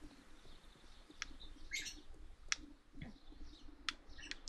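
Pet birds chirping indoors, short faint high tweets and clicks scattered irregularly over a quiet background.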